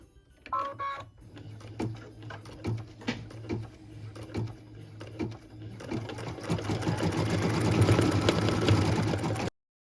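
A sewing machine stitches a snow-globe Christmas ornament, first in a series of short, rhythmic bursts, then in one loud, steady run that stops abruptly.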